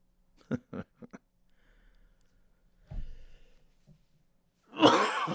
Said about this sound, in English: The cough, more than anything, is still lingering.